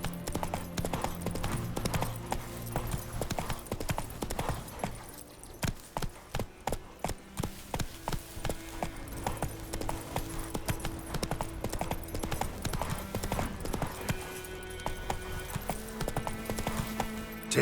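Roach the horse galloping in The Witcher 3, with rapid rhythmic hoof clip-clops on hard ground, close and steady, slowing briefly midway, with occasional whinnies and snorts mixed in.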